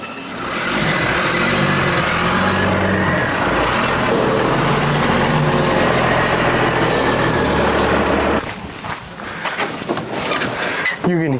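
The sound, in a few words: 1940 Ford truck engine running, blowing power steering fluid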